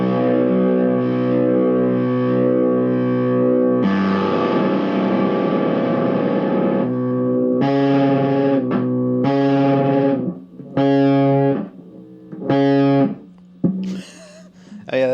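An electric guitar through an M-Vave Mini Universe reverb pedal plays sustained distorted notes and chords, loud and washed in effects, with a few short choppy phrases and brief gaps near the end.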